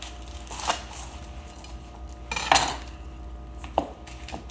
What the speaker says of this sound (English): we make our cut right through the top and go right through the bottom without removing the root